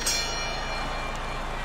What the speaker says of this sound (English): Final bell of what was a one-sided outing.